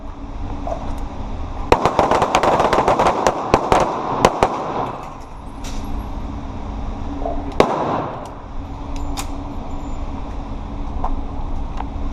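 Taurus G2C pistol shots ring out at Royal Range Nashville during a defensive pistol class, a quick volley of sharp cracks followed by a lone later shot, over steady background hum.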